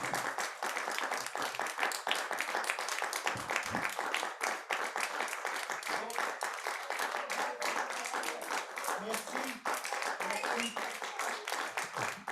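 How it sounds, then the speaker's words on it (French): Audience applause at a masterclass event, steady dense clapping heard from within the hall, moderately quiet and continuous throughout with no break. "Sous vos applaudissements, Henris Kinami."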